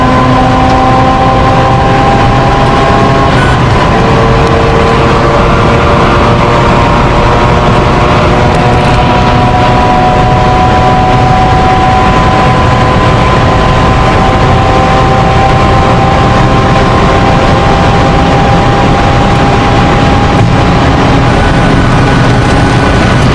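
A Mazda RX-8 with its rotary engine drives at a loud, sustained drone, engine tones sliding slowly in pitch over a constant road rumble throughout.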